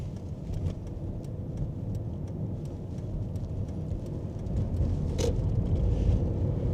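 A 2000 Toyota Crown Royal Saloon 4WD driving, with a steady low engine and road rumble that swells slightly toward the end, heard alone from inside the car.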